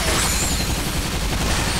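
Dense, continuous gunfire in the shooter game Bulletstorm, aimed at a swarm of mighty blue butterflies, a loud unbroken roar of rapid shots filling the whole moment with no pauses.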